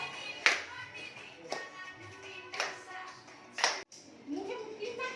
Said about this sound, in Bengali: ক্ল্যাপ দাও।